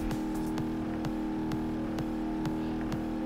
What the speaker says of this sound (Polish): Mamy tu normalnie dźwięk silnika, elegancko.